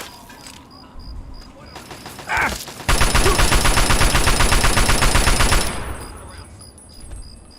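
A grenade goes off in Fallout 3, followed by a loud sustained stream of rapid automatic gunfire lasting several seconds, with a voice speaking over the start of the action.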